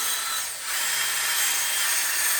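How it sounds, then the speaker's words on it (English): A power drill fitted with a low abrasion bit scrubs an aluminum oil cooler filter housing from a Ford Mustang, a steady high-pitched whirring hiss with a brief dip in load, close and loud, without talk. "I have one of these low abrasion bits that I can attach to the drill."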